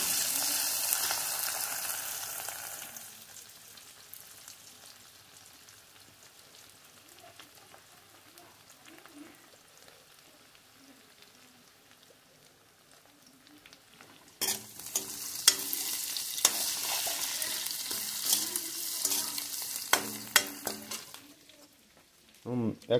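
Chopped onion frying in a pot for a village-style wild boar meat curry, with loud sizzling bursts and stirring scrapes at the start and end and a quieter, low simmer in between.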